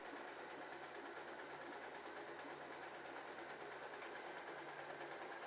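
W6 sewing machine sewing a triple stretch stitch at width 5 on stretch fabric, a fast steady mechanical whir with rapid even stitching pulses, quiet and alone.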